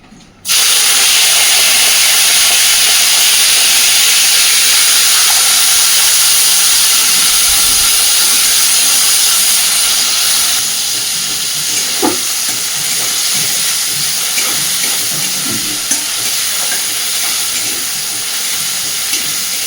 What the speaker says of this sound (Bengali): লবণ আর হলুদ মাখিয়ে রাখা গুগলিটা আগে সুন্দর করে ভেজে তুলে নেব